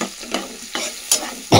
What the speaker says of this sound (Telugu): ఆనియన్స్ బాగా వేగాలి ఫ్రెండ్స్